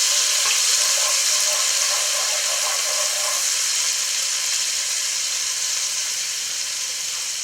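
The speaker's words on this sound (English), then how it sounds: "Now I'm going to add 4 cloves of minced garlic, give that a quick stir." Four cloves of minced garlic sizzle in a pan for pasta with peas, a constant bright hiss that fades slightly over time, with a few soft stirring scrapes early on and no talking.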